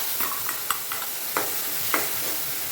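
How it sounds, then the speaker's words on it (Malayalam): Ground curry paste for pulissery poured into a hot tempering in a home kitchen and stirred, giving a soft steady sizzle with several light scraping stir strokes at an even rhythm, close by and fairly quiet, no voices. "അരപ്പ് നമുക്ക് ഇതിലേക്ക് ഒഴിച്ചു കൊടുക്കാം."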